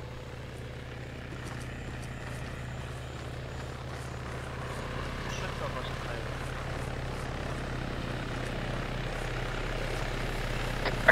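Helicopter rotor and engine drone in a video game, a steady low rumble that builds slightly louder over time, heard alongside players talking.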